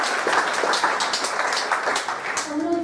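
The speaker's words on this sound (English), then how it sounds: "Give yourselves a round of applause." An audience at a girls' and women's sport season launch claps in a lively, moderately loud burst, with scattered sharp claps and a faint voice emerging near the end.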